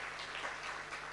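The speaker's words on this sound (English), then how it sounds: "Come on, a good hand of applause." Applause for the board chair at a SACCO launch event, a steady, fairly quiet patter of clapping from a gathered audience with no voices over it.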